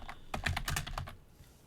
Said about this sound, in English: And on this computer, I'm going to type in